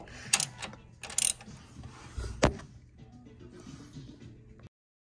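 Bolting up a transmission mount on a Hyundai Sonata NF with the 3.3-liter V6: close, soft mechanical ratcheting and scraping, with a couple of brief bursts and one sharp metallic clank.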